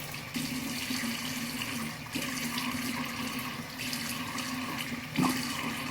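Water runs steadily from a sink tap while someone washes their face, a constant close splashing flow with small splashes and a brief louder slosh near the end, no one speaking.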